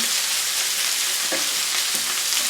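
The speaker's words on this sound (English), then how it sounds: "I just want those flavours to mix and let the ginger get in and the garlic get in." Ginger and garlic sizzle in hot oil as they are stirred, giving a dense, even hiss throughout with a couple of soft scrapes of the utensil.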